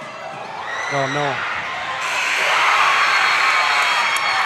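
Spectators at a girls' varsity high school basketball game shout and yell, starting under a commentator's voice and then rising into a louder, sustained burst of crowd noise.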